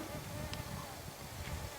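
An Amegilla bee buzzes steadily in flight, a low droning hum close by, with faint background noise and no voices.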